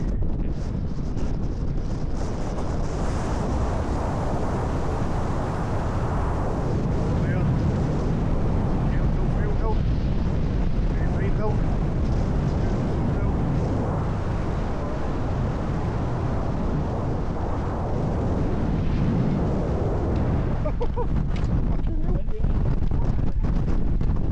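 Gusty wind on an open hill rumbles loudly and continuously against the microphone for a long stretch, with indistinct voices faintly buried beneath it.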